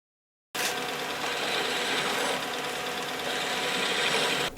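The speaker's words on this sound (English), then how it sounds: "I cut a little bit of the thread, then I unlock it, turn it, and then lock it again, and keep on threading" A metal lathe running in back gear cuts a thread with a die. After a moment of silence it starts abruptly into a steady, loud, close mechanical whir with vibration that continues to the end.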